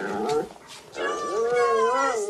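A dog named Jonas howls close by, a wavering, drawn-out whine rising and falling over about two seconds after a brief first cry.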